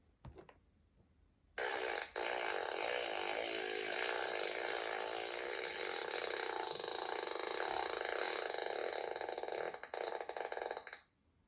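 A long, loud, continuous raspy fart from a man in bed, buzzing and rattling steadily for about nine seconds after a brief quiet start, then cutting off abruptly, with no voices.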